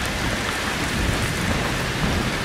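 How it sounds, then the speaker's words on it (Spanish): Heavy rain falls steadily in the horror video game Outlast 2, a dense, unbroken downpour with a low rumbling undertone and no voices. "Seguimos con la lluvia de sangre en este lugar."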